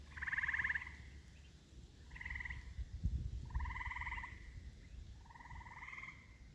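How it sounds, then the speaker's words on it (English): Frogs croak by a brown, runoff-filled pond in a series of four short harmonic bursts spaced about a second and a half apart, fairly close and clear over a low rumbling background. "You can hear the frogs talking to each other."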